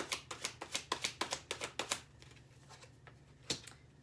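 Tarot cards being shuffled by hand, a fast run of about a dozen crisp riffling slaps for two seconds, then a quieter pause and a single sharp card tap, close and alone without talk.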